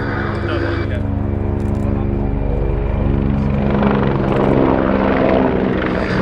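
Mil Mi-171 helicopter, the export Mi-17 with Klimov TD3 engines, displaying at an IWM Duxford airshow, a loud steady rotor thump and turbine roar with a commentator speaking over it.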